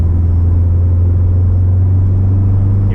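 A Subaru WRX STI idles on a big, fast race circuit, a steady low engine drone with a strong, even hum and no revving, close by and alone.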